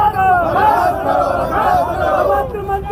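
A street protest crowd at Gandhi Chauraha in Mandsaur chants slogans in loud unison over an effigy burning, voices rising and falling in rhythmic waves close by.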